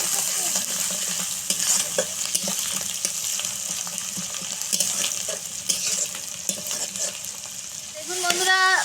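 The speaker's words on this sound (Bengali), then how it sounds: "দিয়ে আবার একটু নেড়ে নেব।" Onion and garlic paste frying in a wok, a continuous close sizzle with repeated scrapes and knocks of stirring, rising into louder clattering near the end.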